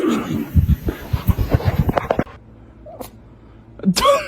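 A cat yowls in a rapid run of loud, close cries for about two seconds, followed by near silence and then one more short vocal burst at the end.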